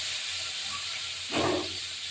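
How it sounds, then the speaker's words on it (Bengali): Nigella seeds and onions sizzle in hot oil, a soft, steady hiss with one brief louder burst of frying midway, heard close with no talking. "এই যে সামান্য একটু কালো জিরে দিয়ে এই পেঁয়াজগুলো দিয়ে দেবো।"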